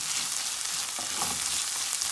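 About two heaping tablespoons of tomato paste fry in a pot for a fish stew, giving a constant soft sizzle with a brief stirring scrape near the middle.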